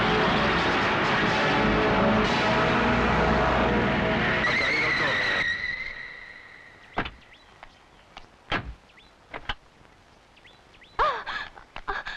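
A car pulls away with a loud tire skid and engine roar that fades after a few seconds, followed by scattered sharp knocks and clicks in a quieter stretch.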